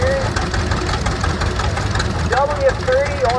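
A 1938 McCormick-Deering W30 vintage tractor engine runs steadily at a tractor parade, a loud low chugging that continues as someone talks over it on a public address.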